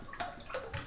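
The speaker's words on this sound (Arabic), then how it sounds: "كنعبر الزيت بنص كاس" Cooking oil poured into a measuring glass while preparing a spiced couscous dish, a soft trickling, watery pour with light gurgles lasting about a second, close and fairly quiet.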